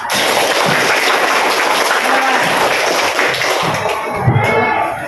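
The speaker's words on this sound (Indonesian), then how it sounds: "Tepuk tangan semua." An audience at an Indonesian class meeting claps steadily, a dense, even wash of applause sustained for the whole span with a few louder thumps near the end.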